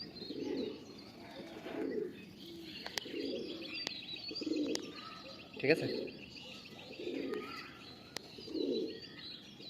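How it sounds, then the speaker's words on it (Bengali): Tikki line pigeons at a loft in Sankrail, Howrah, cooing in soft rhythmic low calls that repeat roughly every second, with occasional chirps and a few wing flaps, under a voice talking. "এই দেখুন বন্ধুরা টিক্কি লাইনের পায়রা"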